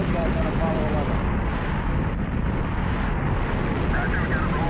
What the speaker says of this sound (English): All engine running. Liftoff. We have a liftoff.